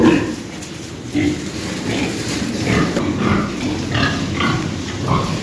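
A pig grunts in short bursts, several times over a few seconds, close by, with some shuffling and background noise around it.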